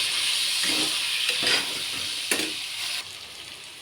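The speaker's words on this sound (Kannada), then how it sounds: "ಈರುಳ್ಳಿ ಎಲ್ಲ ಚೆನ್ನಾಗಿ ಫ್ರೈ ಆದಮೇಲೆ ಬದನೆಕಾಯಿ, ಈಗ ನೀಟಾಗಿ ಫ್ರೈ ಮಾಡ್ಕೋಬೇಕು." Eggplant and onions fry in a pan, a steady close broadband sizzle with a few stirring scrapes on top, easing slightly quieter near the end.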